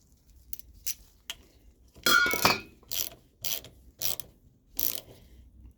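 A cleaned lawnmower carburetor is reassembled and tightened: sharp metallic clicks and ratcheting bursts come in separate groups, with one longer stretch of rapid ratcheting, close and alone against near silence.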